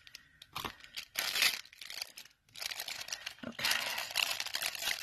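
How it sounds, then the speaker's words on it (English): Plastic packaging for cheap miniature kitchen pieces is torn and crinkled open in close, irregular bursts of tearing and crunching, with short pauses between pulls. "I can't get this bag open."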